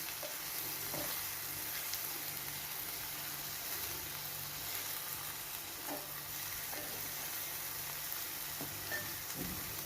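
Egg fry with amaranth leaves stirred in a pan, a steady loud sizzle broken by soft spatula scrapes and clicks at irregular intervals, with no talking.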